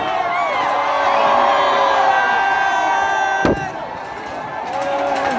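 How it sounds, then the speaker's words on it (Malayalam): A crowd roars steadily at an outdoor Kerala New Year celebration, with tonal whistles or horns above the noise and one sharp bang near the middle. "ഒരു നാടിന്റെ ആഘോഷം, ഒരു നാടിന്റെ ആരവം."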